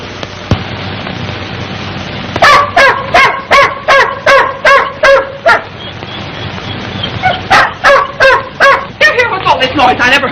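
A dog barks in a quick run of sharp, loud, evenly spaced barks, pauses, then breaks into faster yips and excited barking, heard up close in an old 1932 film soundtrack.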